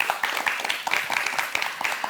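An audience at a televised panel discussion claps, the dense patter of many hands sustained evenly for about two seconds at moderate volume.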